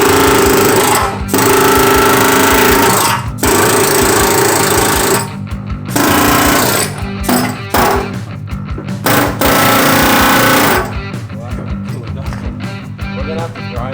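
An angle grinder works on metal on a 1995 Harley Davidson FXD, cutting in and out in loud harsh bursts separated by short pauses, close by.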